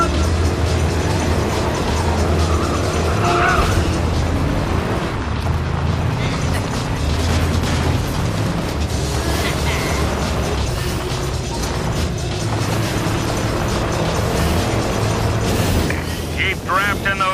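Dense, continuous engine roar and mechanical whirring from a pack of race cars starting in ModNation Racers on PS3, loud and steady throughout, layered with game music and effects.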